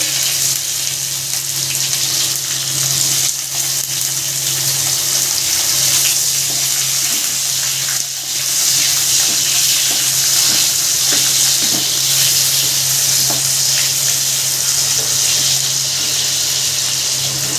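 Capsicum fries in a hot pan, a loud, unbroken sizzle with a faint low hum beneath and occasional soft scrapes, close up and without speech.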